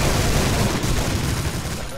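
Auto shotgun alternate fire in the Plutonia 2 Doom mod with Brutal Doom, a loud, dense volley of heavy blasts running continuously through the moment, close and booming.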